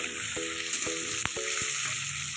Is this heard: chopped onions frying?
yes